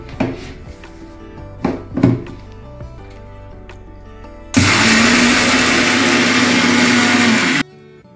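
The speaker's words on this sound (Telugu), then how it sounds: "నేను మిక్సీ పెట్టాను" A mixie grinder grinds coriander seeds and sesame into a coarse powder, roaring loudly and steadily for about three seconds after a few softer thumps and knocks.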